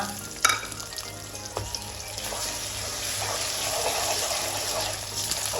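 Bay leaf and ginger-garlic paste hitting hot oil in a pan for a green-chilli beef curry, a sharp initial clatter then a continuous close sizzle that swells slightly, with no talking.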